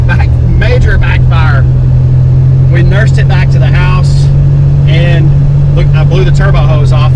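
A Buick Grand National's turbocharged engine runs while driving, a steady low drone heard underneath continuous close-up talking throughout.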